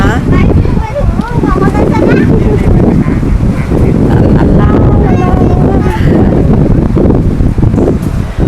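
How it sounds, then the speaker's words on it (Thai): Strong wind buffets the microphone in a Thai national park, Khao Laem Ya, roaring loudly and continuously with gusting surges while people talk over it. "ลมแรงมากเลยนะคะ"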